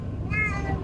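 A cat in a car headed to the vet lets out a single plaintive meow. It is close and fairly clear, rising slightly and then trailing off over steady low engine and road noise.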